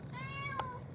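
A cat gives a single clear, drawn-out meow close by, with a faint click partway through and a low background hum.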